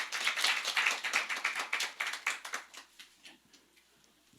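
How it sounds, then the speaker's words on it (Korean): A church congregation applauds to welcome a speaker, brisk clapping that is moderately loud at first, then thins out and fades within a few seconds. "큰 박수로 환영하겠습니다."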